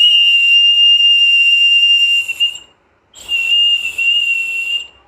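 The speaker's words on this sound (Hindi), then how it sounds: "पेन के ढक्कन से भी हम आवाज़ निकाल सकते" A pen cap blown across like a whistle gives a loud, steady high-pitched tone, sounded in two long blasts with a short gap between them and no talking.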